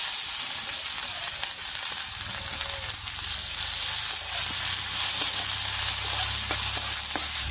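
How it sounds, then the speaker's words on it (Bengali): Chopped onion goes into hot mustard oil that already holds dried chilli and cumin seeds, and a steady crackling sizzle follows. Stirring and scraping in the pan can be heard, with no speech. "এবারে দিয়ে দিচ্ছি পেঁয়াজ কুচি।"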